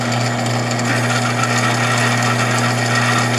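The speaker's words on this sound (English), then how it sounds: "Sharp drill goes nice." A power drill whirs steadily and loudly up close, a continuous grinding buzz with no pauses, drilling a hole with a sharp bit during a homemade hit-and-miss Briggs engine build.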